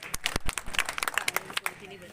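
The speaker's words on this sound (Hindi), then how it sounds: "कृपया उत्साहवर्धन के लिए ताली बजाते चलें" Audience at a village panchayat meeting in Barkheda clapping in scattered, uneven bursts of applause, fairly faint and brief, with sharp individual claps standing out.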